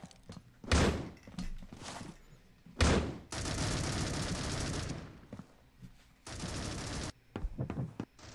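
Flashbang grenade thrown and detonating in the Critical Ops shooter game, sharp bangs followed by long bursts of loud, dense gunfire-like noise that stop abruptly, with brief pauses between.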